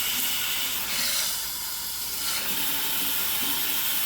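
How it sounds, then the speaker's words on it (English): Matte black shower trim head spraying water, a mix of center jets and wider spray, producing a steady close hiss that swells slightly midway. "Now you've got this kind of spray head that's jets in the middle,"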